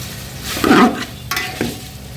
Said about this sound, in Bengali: মাংসটা দিয়ে দিবে দিয়ে মাংসটা ভালোভাবে কষাবে